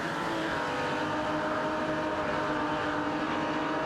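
Chevrolet Impala SS67 and BMW M1 racing in a video game, a continuous loud engine drone holding steady pitch with a buzzing, layered motor tone and no talk.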